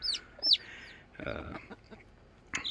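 High, shrill chick peeps come in short bursts, close and fairly loud, with soft rustling and shuffling between calls.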